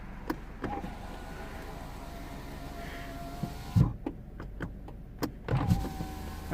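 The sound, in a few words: car electric windows moving down and up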